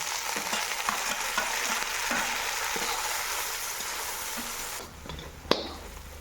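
Chopped tomatoes go into a sizzling tadka for a mixed fried vegetable sabzi, giving a loud, steady frying hiss with stirring scrapes throughout that drops off near the end before a single sharp clink.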